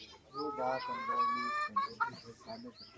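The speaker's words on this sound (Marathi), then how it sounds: "हे बघा इकडच्या बाजूला इथं कोंबड्या आहेत" Chickens cluck and squawk close by, a few short calls and a longer drawn-out cackle, with someone talking quietly alongside.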